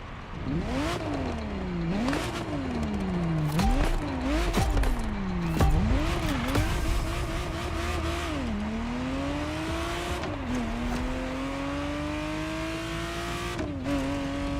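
Ferrari Testarossa racing in The Crew Motorfest, its engine howling through repeated rising revs and sharp gear shifts, close and loud, with quick downshifts early on before settling into long climbing pulls.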